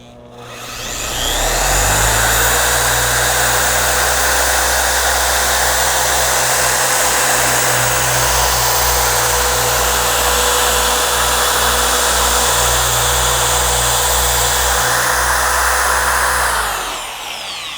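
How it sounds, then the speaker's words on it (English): TORQ X dual-action polisher run at speed setting 6 working product into car paint, a loud, steady motor whine and hum that ramps up, holds constant for about fifteen seconds, then winds down. "you're gonna bump it up to speed setting 6, and you're gonna work in the product till it turns clear or translucent"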